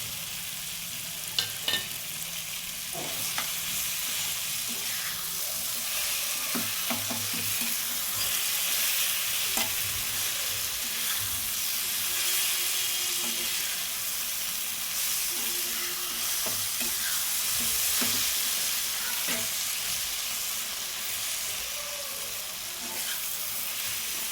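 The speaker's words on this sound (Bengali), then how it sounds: "রসুন অনেকটা ভাজা ভাজা হয়ে গেছে এবার আমি মাছের মাথাগুলো অ্যাড করে দেবো" Rohu fish heads fry in hot oil with browned garlic, a steady dense sizzle running throughout with occasional clinks and scrapes of a utensil, close and fairly loud.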